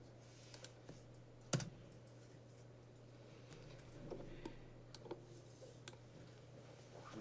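Soft, irregular keystrokes tap on a computer keyboard as text is typed into a document, faint and close, with one sharper click standing out.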